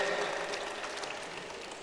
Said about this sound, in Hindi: जोरदार ताली बजा दो भाई इसके।